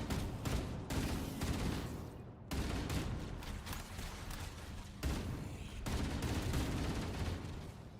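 Rapid bursts of assault rifle fire from the remade Halo: Campaign Evolved, sustained fully automatic shooting in several long strings with brief gaps, loud and close throughout, no talking.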